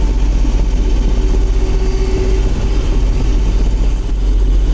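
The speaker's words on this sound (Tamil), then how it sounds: "சத்தியமான டஸ்கர் ரோட்டாவட்டர் போட்டு ஆப்ரேட் பண்ணிகிட்டு இருக்கிறோம்." A loud, steady diesel engine of a John Deere 5075E cabin tractor running a Tusker rotavator drones continuously with a heavy low rumble and mechanical churning, close by, no voices.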